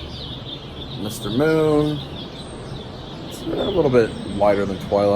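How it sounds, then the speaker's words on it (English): Birds chirping and cooing at dawn in Puerto Vallarta, repeated dove-like coos and small chirps in the background beneath someone talking. "You can hear the birds chirping"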